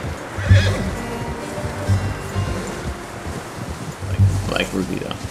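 A horse in the video game Red Dead Redemption 2 whinnies several times in short bursts over a steady outdoor wash of wind or surf, with low rumbling underneath.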